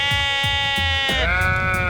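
Several sheep bleat in quick succession, wavering calls at close to middle distance with one drawn-out cry near the end, set in a quiet rural seaside landscape.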